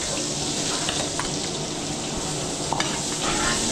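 Mixed seafood cooks in a pan with garlic, onion and butter, giving a loud, continuous sizzle with occasional scrapes and clinks of stirring, close up and with no speech.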